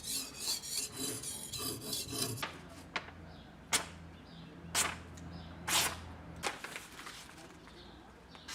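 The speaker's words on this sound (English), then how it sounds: "This patient honing refines the steel to a razor apex." Steel blade forged from an old rusted truck suspension spring, drawn across a water-wetted sharpening stone, giving a close, rasping scrape in a steady run of strokes with a few sharper scuffs between them.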